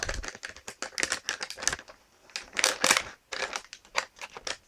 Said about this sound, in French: Prendre une paire de ciseaux.